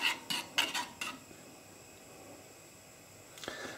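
A spoon stirs a mixture in a pan for bread and butter pudding, making a few quick, soft clinks against the metal at the start, then a faint quiet pause and one more light scrape near the end.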